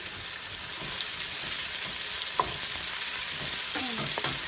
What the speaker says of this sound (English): I'm going to gently saute these together